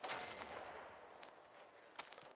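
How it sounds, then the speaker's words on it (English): Artillery duel near a front line heard from a firebase: a few distant sharp reports and thumps stand out from a steady, quiet wash of background noise over a couple of seconds. "it's a artillery duel going on right now"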